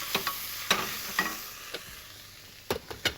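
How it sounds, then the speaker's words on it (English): Leeks, onions and fennel sweating in a pan are stirred gently, giving a few soft, scattered scraping clicks over a faint low sizzle, alone and fairly quiet. "You've got to stir it gently"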